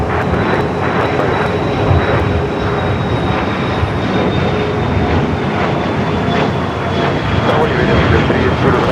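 Airplane engines roar steadily and loudly as a jet takes off from runway 25 right at Los Angeles International Airport, a continuous broad rumble with a faint high whine running throughout, heard from a distance with no close talk.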